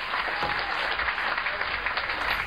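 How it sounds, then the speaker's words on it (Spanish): Studio audience applause greets a presidential candidate on a television talk show, a dense, even wash of clapping from many hands, steady and moderately loud for its whole length. "Un fuerte aplauso para"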